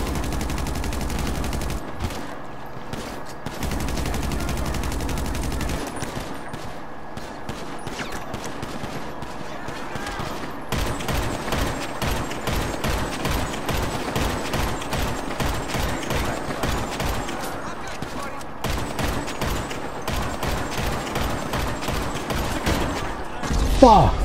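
Rapid gunfire bursts and a fusillade of shots in GTA 5 Online free mode, loud, continuous and dense, with rattling machine-gun runs that come in close, repeated volleys over game music, with a little talk mixed in.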